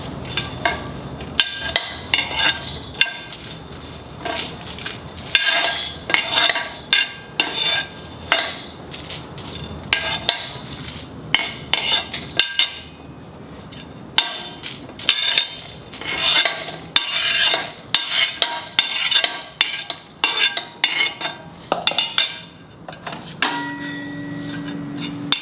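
Fried shrimp is lifted out of a pan with a utensil: close, irregular metallic clinks and scrapes against the pan, coming in quick bursts with short pauses between them.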